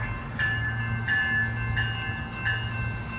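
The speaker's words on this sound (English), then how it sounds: "Let's actually take a breather so we can watch this A line train to DIA depart." An A Line commuter train bound for DIA pulling out of the station at 38th and Blake, a steady low rumble with high squealing tones rising at intervals as it moves off.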